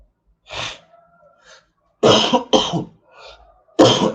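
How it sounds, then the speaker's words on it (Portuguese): Several harsh coughs in bursts, one then a quick pair and another, close and loud with brief quiet pauses between. "eu tô com uma tosse horrível"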